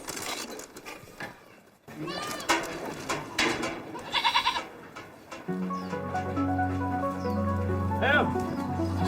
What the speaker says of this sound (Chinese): 有400多隻，都是我們本地的山羊來的。